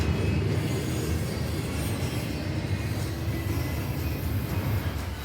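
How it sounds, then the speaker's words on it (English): Freight train led by an EMD SD70ACE locomotive rolling past close by, a steady loud rumble and rail clatter that holds without a break as the cars go by, with a distinctive rising acceleration tone. "This train made a very unique acceleration sound as each rail car passed in front of us."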